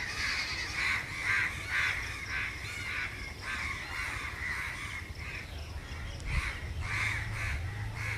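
Evening bird chorus on a hill road in Port Blair, Andaman, a continuous overlapping clamour of cawing crow-like calls, moderately distant, steady throughout with a brief low thump near the end.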